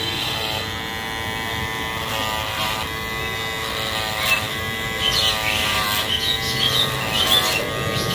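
An electric hair clipper cutting hair, a steady close-up mechanical buzz with a harmonic drone and intermittent scratchy rasping as the blades pass through the hair.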